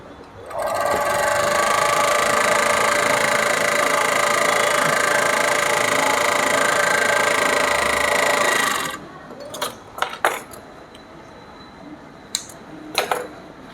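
An overlock machine runs in one steady, loud, high-pitched whirring stitch for about eight seconds, then stops, leaving a few sharp clicks and handling taps close by.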